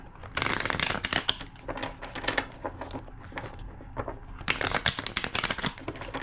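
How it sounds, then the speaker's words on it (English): A deck of tarot cards being shuffled, in quick riffling bursts of papery flutter and snapping, close up with brief pauses between shuffles. "Two more shuffles."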